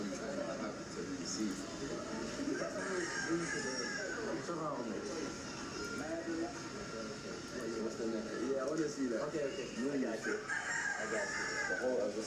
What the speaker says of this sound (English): Damn, I got them chickens out here as well, chat.